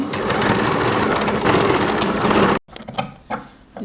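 A sewing machine stitches the neck of a baby frock, its motor running in a loud, continuous close-up whir that stops abruptly, followed by a few faint handling clicks and rustles.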